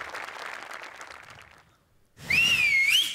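Audience at a Marathi comedy show whistles one loud, sweeping whistle after a stretch of applause and crowd noise, with a brief lull between them.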